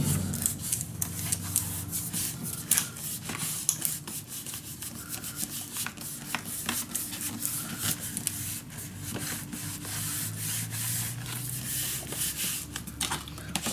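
A tool burnishing paper down onto a scrapbook mini album: soft, repeated rubbing and scraping strokes in an irregular rhythm, close and quiet, with no talk.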